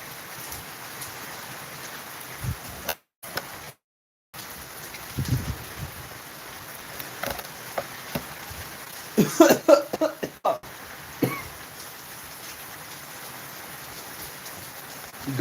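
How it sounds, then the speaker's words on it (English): Rain falls steadily outdoors as a soft, continuous patter with scattered louder drops and rustling, interrupted by a couple of brief dropouts and a burst of closer knocking midway. "Thank you, Rain, for every drop that you bless me with."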